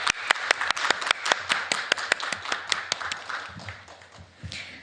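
Audience applause closes a panel discussion at the 2022 Gamification Talks international conference: a burst of quick, crisp hand claps from a modest crowd, fairly close, gradually thinning out toward the end.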